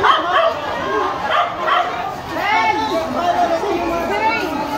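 Several dogs bark and yip close by amid the commotion of a residential fire in Pasay City, with excited voices talking over them throughout.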